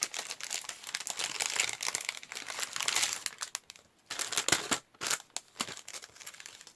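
Plastic packaging around a haul item, a foam rubber glitter bunny toy, being opened, with close crinkling and rustling, a short pause, then sharper tearing crackles, quiet and alone.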